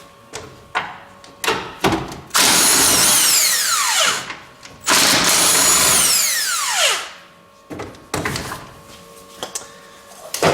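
Power tool with a 12 mm socket loosening the throttle body bolts on a Toyota Corolla Dual VVT-i engine, loud whirring bursts of a few seconds each with sweeping pitch, split by short clicks and clatter.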